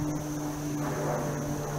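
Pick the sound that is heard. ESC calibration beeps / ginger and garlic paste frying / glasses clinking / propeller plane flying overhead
propeller plane flying overhead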